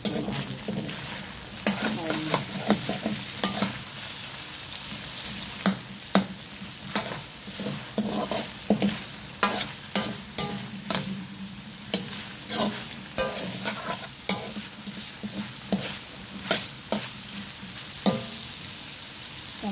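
Onions sautéing in a hot pan, stirred repeatedly. A steady sizzle runs underneath, and sharp scraping clatters come in uneven bursts, close and fairly loud.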